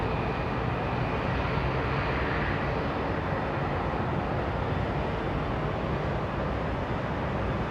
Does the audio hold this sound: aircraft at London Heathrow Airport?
yes